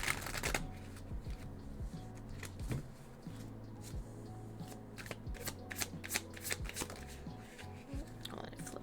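Tarot cards are shuffled by hand close up in a quiet room, giving repeated riffling and sliding bursts with brief pauses between them.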